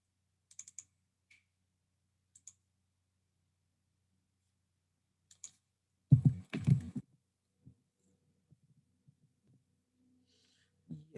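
Short bursts of computer keyboard typing, with a denser cluster of keystrokes in the middle and scattered single taps around it, faint and isolated, with no talk.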